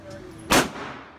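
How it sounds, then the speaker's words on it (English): A single loud shot from a Glock 42 pistol chambered in .380 caliber at a shooting range, one sharp close blast that decays quickly into faint background noise. "We shooting my Glock 42 right now."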